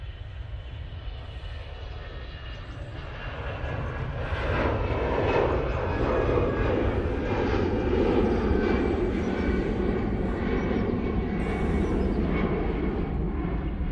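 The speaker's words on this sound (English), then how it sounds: "Next departure, another Mighty Orange using an A320-200" An easyJet Airbus A320-200 airliner departs toward Alicante, its broad engine roar swelling from a softer rumble to a steady, loud thrust that holds for several seconds with no voices.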